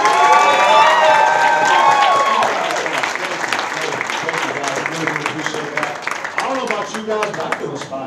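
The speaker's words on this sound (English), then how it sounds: "let's give a big round of applause for our panelists" An audience at a summer jobs program awards event applauds and cheers for the panelists: loud, sustained clapping with whoops and shouts. A voice speaks over the start.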